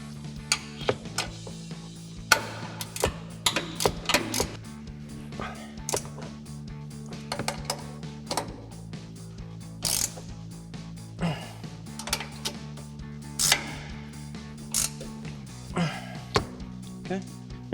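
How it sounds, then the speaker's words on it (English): A 15mm ratchet wrench tightening the upper strut mounting nuts on a 2015-2020 Ford F-150 front shock, short bursts of faint clicking and mechanical clatter with scattered knocks over a low steady hum. "Now we can go ahead and tighten down our upper strut mounting nuts, again using our 15mm ratchet wrench."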